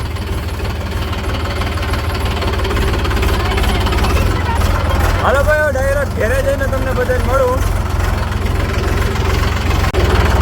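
A tractor engine idles and chugs steadily, loud and close, with a continuous low rumble on a Gujarati farm while someone talks over it and a dog-like whine briefly cuts through midway.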